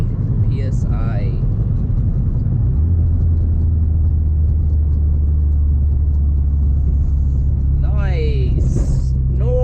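A tuned Mazdaspeed car runs under turbo boost with a loud, deep engine rumble that drones throughout, with short high chirps near the start and end and people talking over it inside the cabin.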